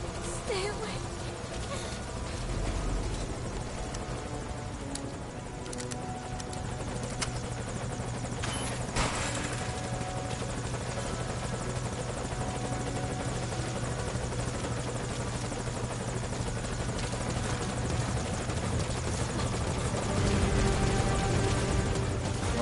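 A helicopter in the video game Metal Gear drones steadily throughout, a continuous loud rotor and engine roar with faint clatter layered over it.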